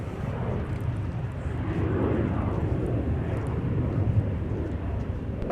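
A Sun Country airliner arriving at Minneapolis–Saint Paul airport, heard as a steady, loud jet engine roar with a broad rumble that holds evenly throughout, without voices.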